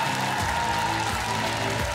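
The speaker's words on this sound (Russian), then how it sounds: "Вам аплодисменты." Studio audience on a TV dance competition claps for a tap-dancing couple, a brief burst of steady applause mixed with music underneath.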